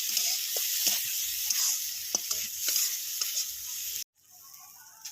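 Chopped tomato and grated ginger frying in a pan, giving a steady, close hiss of sizzling oil broken by intermittent scrapes and taps of a stirring spoon. Near the end the sizzle drops abruptly and continues much quieter.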